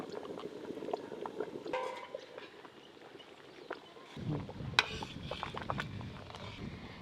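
Broken rice simmering in a pot, a soft steady bubbling and gurgling that continues throughout at low volume, with no talk over it.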